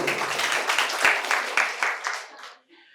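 Loud applause at a prize giving during a quiz event at a medical college, a crowd clapping densely for over two seconds before fading out into near silence.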